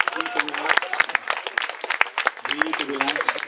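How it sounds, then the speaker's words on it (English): A stage hypnosis show at a graduation event draws a polite round of audience applause, a dense, steady patter of many hands clapping that continues for several seconds while voices talk over it. "Give them all a polite round of applause"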